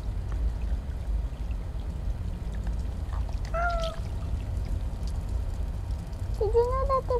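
Cat meowing in the video game Stray, two short meows a few seconds apart over a low steady background ambience.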